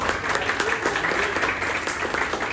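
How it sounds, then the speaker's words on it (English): Dense crowd applause at a community event, a continuous close wash of many hands clapping at steady loudness throughout. "give them a big round of applause"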